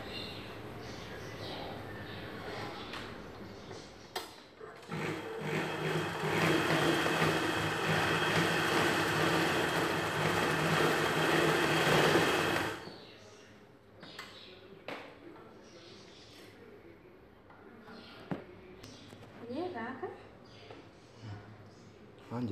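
An electric sewing machine stitches a Punjabi salwar dress, whirring steadily and loudly for about eight seconds near the start of the clip, then stopping and leaving quiet handling clicks and small thuds.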